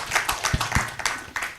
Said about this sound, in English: So let's a round of applause for Professor Sezibera.